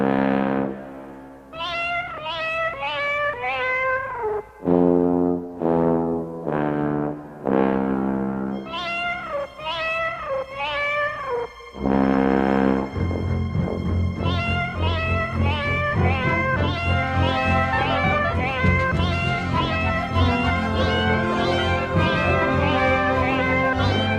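Bongo-style cat meows sung in a rhythmic run form a jingle, bright repeated meow phrases pausing briefly, then a fuller, denser musical passage of layered meows for the rest.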